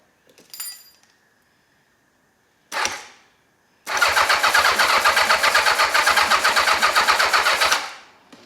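Old motorcycle engine, a Yamaha XJ650 or Honda CBX750, given a starting attempt: two short cranking bursts are followed by a loud, steady run of rapid rhythmic pulsing lasting about four seconds before it cuts out.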